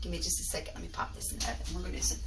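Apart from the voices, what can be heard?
No everyday noises stand out.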